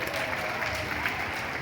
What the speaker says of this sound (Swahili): Ukipigia makofi jameni.